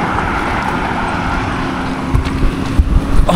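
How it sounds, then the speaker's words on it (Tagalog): Cars speed along a road beside the sea near a cemetery, a steady close roar of traffic with rushing wind that swells and turns choppy toward the end. "Ang bilis na tumatakbo yung mga sasakyan."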